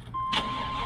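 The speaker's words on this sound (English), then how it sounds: "we have the ability to crank our truck after an EMP" A pickup truck fitted with an EMP shield starts up: a brief electronic tone, then the starter catches and the engine settles into a steady idle close by, with no one talking.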